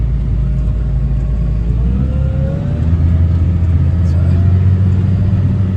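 A John Deere tractor in second gear pulls a Nuhn Magnum 9000 manure spreader, giving a steady loud low engine rumble and drivetrain drone that holds throughout, with a slight rise in pitch partway.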